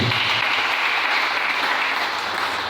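A church congregation claps and cheers in acclaim of the Lord, a dense, steady wash of applause from many hands filling the room without a break.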